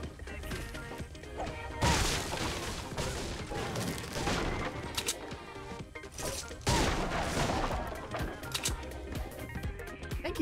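Pistol gunfire in the video game Fortnite, rapid cracking shots and impacts over a dense, busy game mix, with loud bursts near two and seven seconds.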